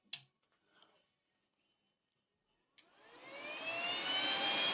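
Cooling fan of a Paton VDI-250P welding inverter under repair spins up after a click, a rising whir that swells to a loud steady rush in the second half, alone without talk.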